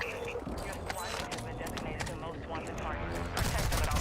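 Teammates firing guns in an online video game, a dense, continuous rattle of rapid gunfire. A player talks over the shooting.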